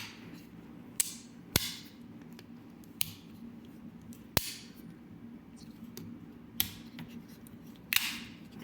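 Sharp, dry clicks from Victorinox pocket knife tools, a brass-lined Climber, snapping shut one after another at irregular intervals, close and crisp over a quiet room hiss.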